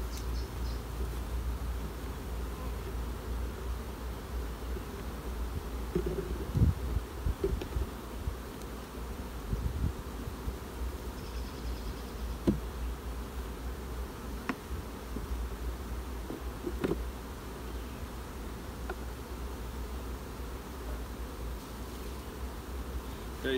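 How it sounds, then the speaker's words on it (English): Honey bees buzz in a strong hive colony opened for inspection, a dense, steady drone of many insects close by that holds for the whole stretch, with faint knocks and handling noises and no talk. "So now we've got a good strong population of bees in this colony."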